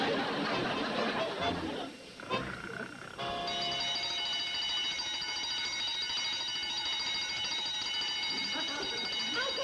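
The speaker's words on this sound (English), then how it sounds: "When there's no one around to guard the lobby, the alarm alerts us to the culprit that's trying to sneak in." A lobby intruder alarm rings continuously and loudly at close range, a sustained electric tone that starts after a brief burst of noise and holds steady to the end.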